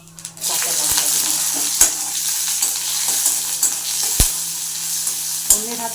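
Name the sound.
green chillies sizzling in hot oil in a wok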